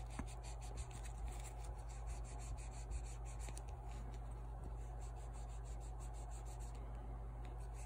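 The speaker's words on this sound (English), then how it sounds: "polishing the area there. See. So to make it look better" Metal is polished by hand to remove drill-bit scratches, a quiet steady rubbing that continues evenly under a constant low mechanical hum, with no speech.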